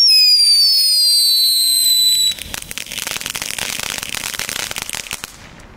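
Crackling fireworks bought from Aldi are set off in daylight: a whistling launch rises first, then gives way to a dense, loud stream of rapid crackles and pops that gradually fades.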